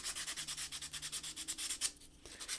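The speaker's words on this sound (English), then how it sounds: "I think these all need the fine sandpaper" Fine sandpaper rubbing on the wooden end of a puppet stand rack piece, a close, rapid rhythmic series of rasping back-and-forth strokes that pauses briefly near the end.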